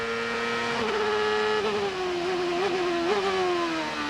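CART Indy cars racing at Mid-Ohio in 1996, a steady high-pitched engine whine rising and dipping as the cars shift and pass, heard alone without talk.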